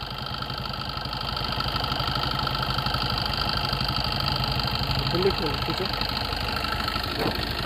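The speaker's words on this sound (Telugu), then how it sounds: "ఇంజన్ బీడింగ్ కూడా చూడండి ఎంత స్మూత్గా ఉందో" A Swift Dzire diesel car engine idling smoothly nearby, a steady low rumble with an even, unbroken rhythm.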